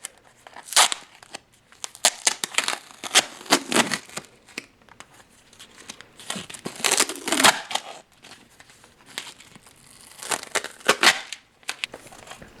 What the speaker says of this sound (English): So let's peel this tape and take a look at what's inside.